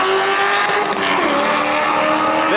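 A drag race car bogs at the launch and then pulls down the quarter mile, a loud, roaring engine whose pitch sweeps and climbs close by, with a faint tire squeal.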